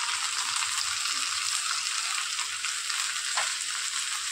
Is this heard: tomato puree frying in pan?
yes